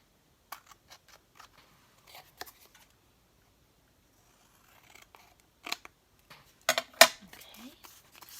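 Scissors snip around the edge of a piece of paper in a quiet room, a string of short, sharp cuts arriving in irregular bursts, with a louder cluster toward the end.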